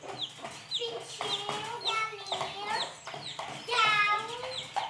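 Chickens clucking in a busy run of short calls close by, with a voice chiming in now and then.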